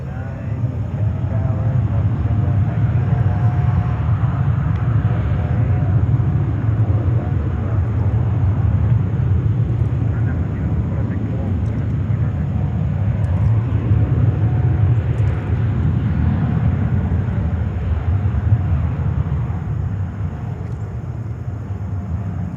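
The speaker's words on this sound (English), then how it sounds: "787-8 just coming in." An Iraqi Airways Boeing 787-8 arrives at JFK Airport in New York, a loud, steady jet roar with heavy low rumble that holds unbroken throughout.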